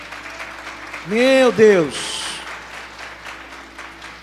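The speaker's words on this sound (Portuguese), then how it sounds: "pode aplaudir Jesus, querido" A church congregation applauds during a sermon, with a broad wash of clapping underneath a man's loud, excited voice that rises and falls over it.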